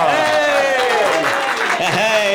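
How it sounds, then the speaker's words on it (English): Audience applause greets a comedian walking onstage at a live stand-up show, a steady wash of clapping with a voice talking over it. "How about a nice big Tell Us Another One round of applause"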